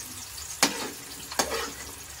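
Food gets stirred in a pan, with a soft sizzle in the background and two sharp scraping strokes about a second apart.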